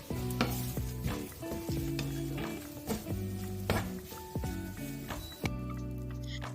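Leftover roti tempered and stir-fried in a pan sizzles softly while a utensil scrapes and taps against the metal in repeated strokes, with a tonal background hum running underneath.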